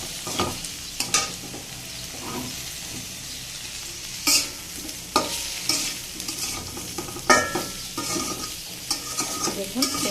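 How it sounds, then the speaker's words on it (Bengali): Flat beans tossed with turmeric in a hot pan, stirred with a spoon in repeated scraping strokes over a steady background sizzle of frying; no voices. "হলুদ দিয়ে এটাকে একটু নেড়ে চেড়ে মিশিয়ে নেবো"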